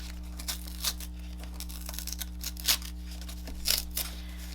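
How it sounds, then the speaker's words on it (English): Cardboard is ripped by hand for a card-making craft, in several short tearing bursts separated by brief pauses, close and fairly loud. "Who'd have thought I'd be having you tear cardboard up, right?"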